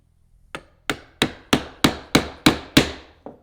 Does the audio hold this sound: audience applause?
no